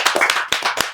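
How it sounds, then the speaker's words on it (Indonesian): A short burst of several sharp hand claps, close and quick, like the start of a round of applause at a school event, with no talk. "Tepuk tangan dulu dong."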